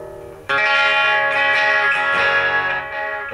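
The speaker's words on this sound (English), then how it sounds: "Got your tape echo." A Line 6 Spider III 75 watt combo amp plays a sustained guitar chord through its tape echo effect, the strummed notes ringing out loud and close and then trailing off in fading repeats.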